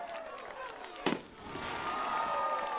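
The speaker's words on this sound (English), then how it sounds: "We got fireworks going on down here by the touchdown up for the Indians." Fireworks go off after a touchdown at a high school football game, one sharp burst amid steady crowd noise, with a commentator talking over the scene.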